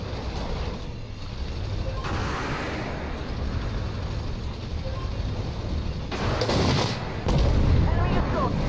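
Heavy tank cannon fire and an impact in the video game Armored Warfare, with a loud booming burst near the end over a constant rumbling engine-and-battle bed, and voice chatter mixed in.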